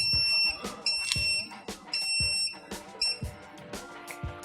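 Pressure sensor alarm on a mold temperature controller sounding repeated high electronic beeps in a steady rhythm, loud and close, over clicks and mechanical noises.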